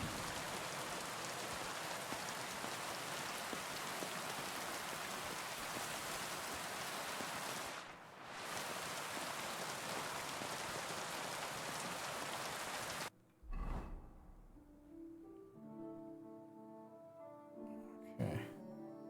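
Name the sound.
thunderstorm rain from video game Kingdom Come: Deliverance II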